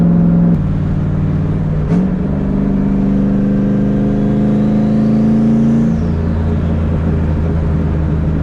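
A turbocharged Ford Mustang engine drones steadily up close at night, its pitch climbing as it accelerates, with a brief shift partway through before the tone settles again.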